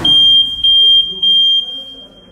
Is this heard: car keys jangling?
no